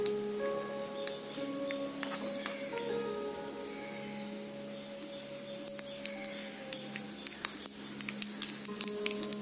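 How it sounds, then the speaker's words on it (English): Mustard seeds and curry leaves sizzle in about two tablespoons of hot oil in a kadai, a steady close frying hiss peppered with sharp pops and crackles throughout. "Around 2 tablespoons of oil, mustard seeds and curry leaves goes in."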